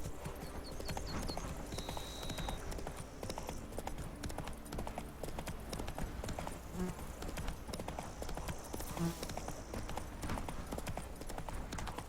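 Steady clip-clopping hooves of Roach, Geralt's horse in The Witcher 3, trotting in a continuous rhythm with faint ambient game sounds and brief speech.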